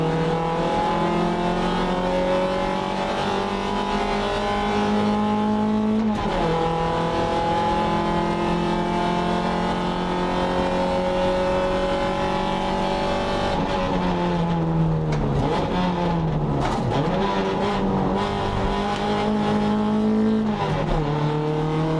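Race cars pull away from the grid at a Circuit Excel race weekend, heard as a loud, sustained engine roar from inside the car, with rising revs, gear changes and dips as the car accelerates.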